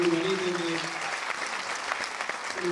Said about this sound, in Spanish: un gran aplauso, pero grande de verdad, para don Urbanito